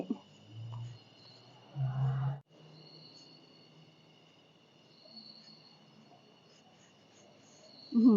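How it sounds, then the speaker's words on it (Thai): Crickets chirp steadily at night in Monteverde, Costa Rica's cloud forest, a thin, continuous trill in the background, with a couple of soft breathy rustles and a brief louder noise near the end. "เสียงจิ้งหรีดร่ำร้องเรไรได้แบบฟิลธรรมชาติมาก"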